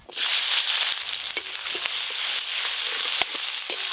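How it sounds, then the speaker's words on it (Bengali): Chopped onions sizzle in oil left over from frying katla and rui fish, a steady, close, bright crackle that holds loud and unbroken from start to finish. "ওই মাছ ভাজার তেলে রান্না করে নেব, আর ফোড়ন কিছু দেবো না। প্রথমে পেঁয়াজ কুচিগুলো দিয়ে দেব।"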